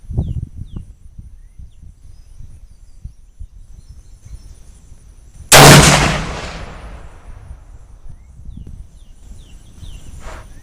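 A single loud rifle shot from a Yugoslavian Mauser cracks out at an outdoor range and echoes away for a few seconds, with crickets and birds faintly audible before and after.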